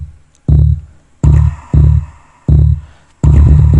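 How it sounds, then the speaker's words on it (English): Drum machine pattern programmed in ReDrum within Reason 4, with a deep bass hit and a droplet sound repeating in a steady loop of loud, punchy beats. "So you can hear the bass sound and the droplet sound coming together."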